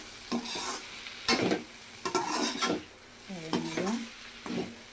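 Spiny gourd pieces fry in a pan, a steady bright sizzle broken by several scraping stirs of a spatula, close and clear, with a brief word spoken.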